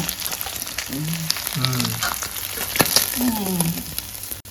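Live koi fish frying in hot oil in a village kitchen, a steady close sizzle and crackle throughout with brief voices and clatter over it.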